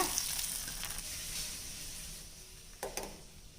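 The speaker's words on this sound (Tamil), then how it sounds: "இப்போ நம்ம சேமியா வறுத்துட்டு வந்துடலாங்க" Vermicelli roasts in ghee in a pan with a soft, steady sizzle that fades slightly, with a couple of brief scrapes near the end and no voices.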